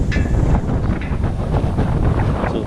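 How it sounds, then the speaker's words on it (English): Wind gusts across an outdoor spot beside a truck being set up with a loading ramp, a loud rumbling buffet hitting the microphone without pause. "It's a little windy."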